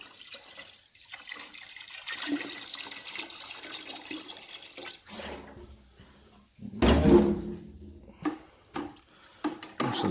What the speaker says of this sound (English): now that I've just added that little bit extra water